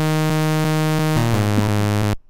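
A Serum software synth plays a bright, buzzy saw-wave bass pitched up one octave. Short repeated plucks give way to a sustained tone that ends abruptly, with no voices.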